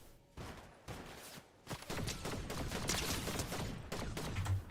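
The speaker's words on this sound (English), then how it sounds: "Who's shooting me?" Gunfire in a Fortnite match, heard as a dense, continuous barrage of loud shots that builds after a short lull and keeps going to the end.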